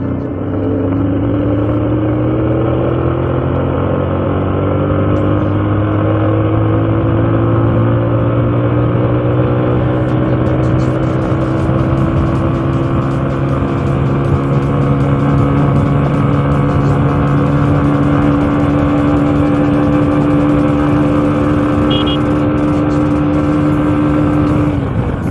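Bajaj CT 100 ES motorcycle engine cruising above 80 km/h, a steady loud drone with sustained harmonic whine and constant wind rush, close and continuous with no speech.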